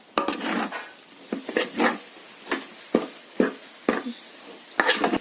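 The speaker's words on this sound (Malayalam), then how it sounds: "ഇനി നമുക്ക് പതുക്കെ വീണ്ടും ഇളക്കി കൊടുക്കാം" Rava upma being stirred in a pan, with a series of scraping spoon strokes against the metal at an irregular rhythm over a soft background sizzle, close and fairly clear, no talking.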